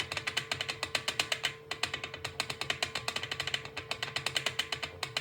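A rapid, steady ticking rattle of a pot of milk coming to the boil, like a lid tapping, repeating continuously at close range with no voices.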